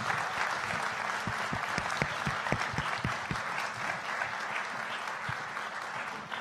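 Audience applause for a panel at a public discussion event, dense sustained clapping from a crowd filling the room, loud and steady throughout with a few sharper individual claps standing out.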